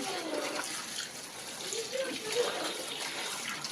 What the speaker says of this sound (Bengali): পালং শাকগুলো কেটে ধুয়ে নিচ্ছি।